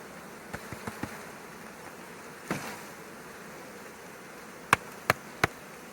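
Bees and wasps drone faintly around a swarm trap and wasp nest outdoors, a thin continuous buzz broken by a few sharp knocks and clicks.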